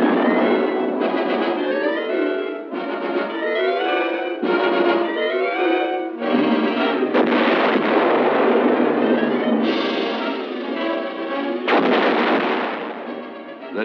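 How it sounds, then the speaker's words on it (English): Heavy artillery fire from an M65 280mm atomic cannon booms and rolls continuously at close range, one loud blast merging into the next with no pauses and no voices. "the final delicate adjustment before a cannon is ready and the order is given to fire"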